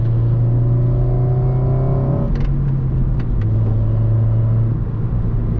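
A 2008 Honda Civic Mugen Si heard from inside while driving, loud steady engine drone with rising pitch as it accelerates, a shift around midway, then settling into a constant cruising hum.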